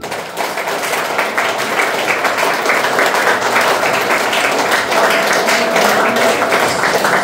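Audience applause at a children's recitation event, dense sustained clapping from a crowd, loud and even throughout.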